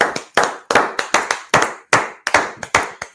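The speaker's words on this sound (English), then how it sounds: "Clap it up." A group claps in a slow, irregular rhythm, about a dozen sharp, loud, close claps spaced roughly a quarter second apart, each ringing briefly before the next, with no talking.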